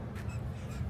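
Crows caw harshly and repeatedly while squabbling, several loud calls close by over an outdoor backdrop beside a river at a theme park resort.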